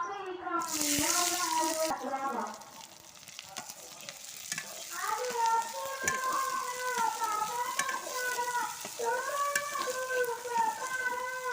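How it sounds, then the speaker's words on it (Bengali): Chopped onion and green chili sizzle and fry in hot oil while being stirred, a steady crackling hiss throughout with a louder burst near the start, a voice speaking over it for much of the time. "এখানে কেটে রাখা পেঁয়াজ কুচি আর মরিচ কুচিগুলো এখন তেলের মধ্যে দিয়ে দেব"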